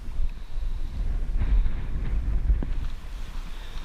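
Steady wind buffets the microphone outdoors on a long-distance hiking trail, a continuous low roar that swells in the middle and then eases, with no voices.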